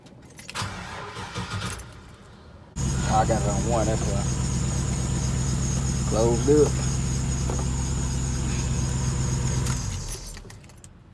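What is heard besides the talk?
car engine starting and idling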